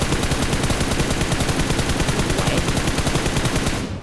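Rapid automatic gunfire in the mobile game PUBG Mobile, a loud, continuous, evenly paced stream of shots that cuts off abruptly after about four seconds.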